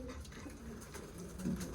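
Soft, low pigeon coos murmur briefly close by, a quiet throaty burble in an otherwise calm space.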